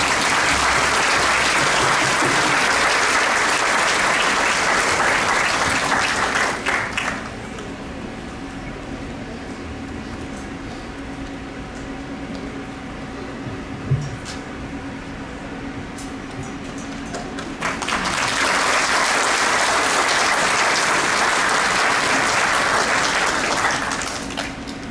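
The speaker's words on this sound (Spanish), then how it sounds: "Aplausos para ella." Concert audience applauds a soprano after a Johann Strauss piece with a symphony orchestra, a loud burst of clapping for several seconds that drops to a quiet hall, then swells again into a second long round of applause.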